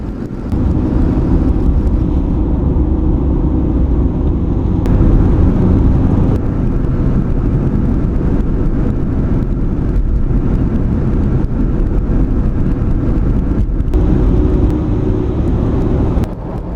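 A 1955 Chevy Bel Air cruising at about 40 mph, a steady loud low engine and road rumble heard from inside the car, continuous and even throughout, with no talking.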